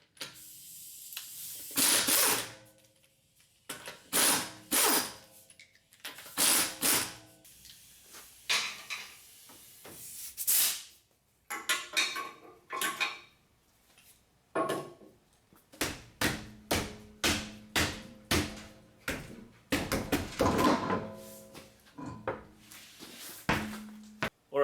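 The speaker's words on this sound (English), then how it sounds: "So now let's remove the tire." Lug nuts come off the front wheel of a 2006 Honda CR-V, as repeated loud bursts from an impact gun alternate with clanks and rattles of loosened nuts and tire handling nearby.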